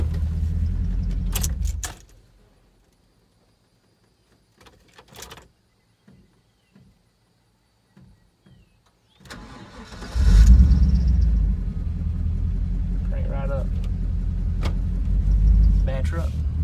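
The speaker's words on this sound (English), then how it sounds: "let's pull it in here just to be sure and turn it off and see if it cranks back up." A Chevrolet C3500 truck, revived after sitting dead for two years, idles, then shuts off into near silence with a few clicks and key jingles before the engine cranks and rumbles back to a steady close idle.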